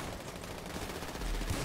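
Shotgun gunfire in a video game, a 'purge' mode on a Marbella-themed roleplay server, comes as a dense, continuous roar of shots with no clear pauses, loud and close throughout.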